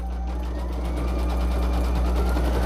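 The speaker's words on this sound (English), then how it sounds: "And so the total is about a 19-minute stitch out on this machine, and I do have it slowed down." A home embroidery machine, slowed down, stitches a design with Madeira thread, giving a steady rapid mechanical chatter over a constant low motor hum, close and continuous with no talk.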